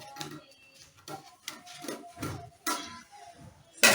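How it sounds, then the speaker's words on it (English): Scissors cut the back neckline of a jacket blouse through the fabric and its lining, making quiet, close snipping and rubbing sounds in an irregular series of short bursts. "I'm going to cut out the back neckline."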